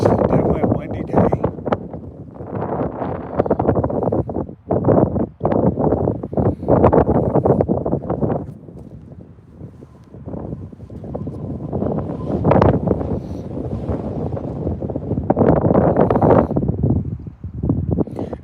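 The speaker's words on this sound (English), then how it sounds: "definitely a windy day" Strong wind buffets the microphone in gusts beside a trout fishing spot, a loud continuous roar that surges and eases, with brief talk during it.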